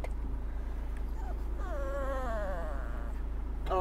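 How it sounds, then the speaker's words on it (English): A dog whimpers and moans inside a moving car: a short whine, then a longer wavering, quavering moan, all over the constant low rumble of the engine, with another whimper at the end. "don't moan, dog, for God's sake"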